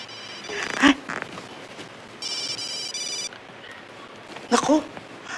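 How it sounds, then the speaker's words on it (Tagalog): A mobile phone plays a short, bright electronic alert tone for a text message between two bursts of people talking nearby. "Naku, nag-text na yung katulong sa kabilang bahay, si Gracia."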